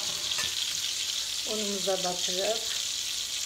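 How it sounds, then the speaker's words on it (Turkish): Sardines dipped in sauce and corn flour fry in a frying pan with a steady, bright sizzle throughout, while a voice speaks briefly over the middle. "kızartma tavasına yerleştiriyoruz"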